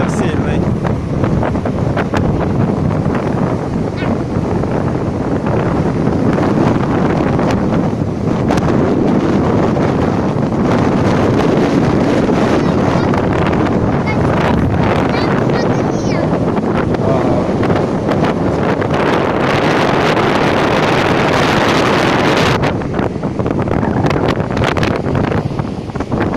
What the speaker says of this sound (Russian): Да, ветер сильный.